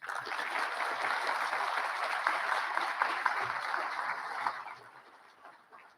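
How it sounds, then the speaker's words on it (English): Audience applause at a graduation ceremony, a crowd clapping steadily and somewhat distantly for several seconds before it fades out. "Please give Dr. Thomas a round of applause."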